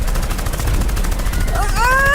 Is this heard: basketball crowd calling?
no